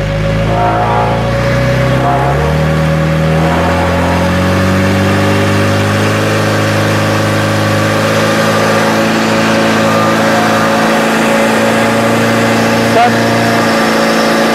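A fire pump engine on a PFPN 10-1000 portable pump is started and the clutch engaged, giving a loud, steady, close engine drone with a rising tone partway through that holds on for the whole stretch.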